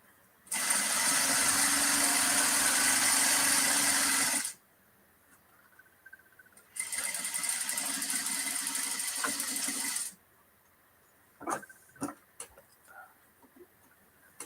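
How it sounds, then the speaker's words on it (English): A serger sewing machine stitches a side seam in two loud, steady bursts of about four seconds each, separated by a pause, then a few light clicks and taps of handling. "serging stuff to me is always a little quicker"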